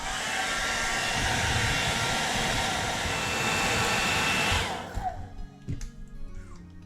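A hair dryer heats glue on a snow globe cover, blowing with a loud, steady broadband roar for several seconds, then cuts off abruptly as a fuse blows, leaving faint clunks and handling noises.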